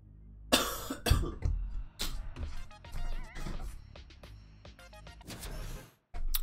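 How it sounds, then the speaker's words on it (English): A man clears his throat and coughs near the microphone during a Fortnite gaming stream: a few rough, close bursts separated by brief pauses. "I just clear my throat."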